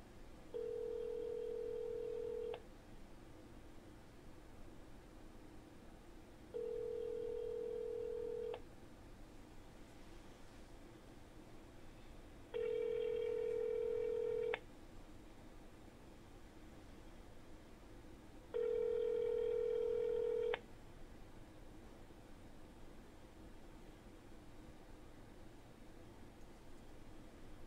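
Telephone call failing to connect: four steady beeping tone bursts of about two seconds each, evenly spaced several seconds apart over a faint hiss, with no voices.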